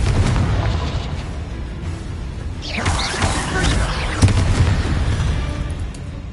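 A Confringo fire spell bursts in a cavern in the mines in Hogwarts Legacy. A thick, continuous roaring rumble fills the space, with a sharper blast surging through it partway along.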